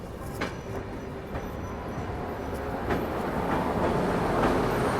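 The Paschim Express passing on an Indian railway line, heard from a moving train: a steady rumbling roar with occasional sharp wheel clicks and clanks, fairly loud and continuous throughout, no talking.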